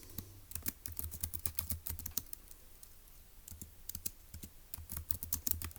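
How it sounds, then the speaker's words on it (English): Someone typing on a computer keyboard at close range, with quick bursts of sharp key clicks that pause for a moment midway and then resume. "let's go ahead and type that up"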